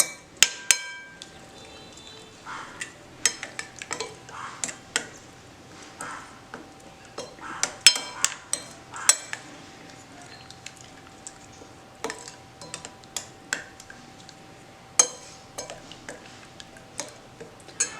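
A spoon clicks and taps against a bowl while ground spices and black pepper powder are stirred together for paneer methi masala, a steady run of light, close ticking clinks with no talking.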